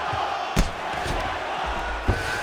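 A crowd murmurs and cheers in the EA Sports UFC 5 game during a Bruce Lee vs. Daniel Hooker fight, a steady arena roar punctuated by two sharp thuds.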